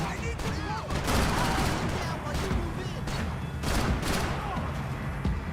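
Dense, continuous gunfire in the video game Max Payne 3 during a slow-motion shoot dodge, with loud overlapping shots and booms and a voice talking over the action.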